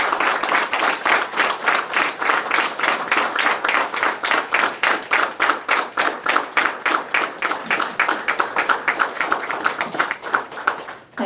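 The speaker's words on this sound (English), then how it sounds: "Let's give him a standing ovation for that inspiring speech." An audience gives a standing ovation after an inspiring speech at an Indian community event in Seattle, loud sustained clapping from many hands, dense and close, continuing for about eleven seconds before cutting off.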